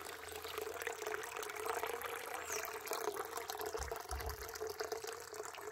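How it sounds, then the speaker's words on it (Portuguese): Water trickles steadily into a nearly full garden pond outdoors, a soft continuous splashing wash heard faintly at a distance with no voices. "Essa água caindo aqui é tão gostoso ouvir o barulho"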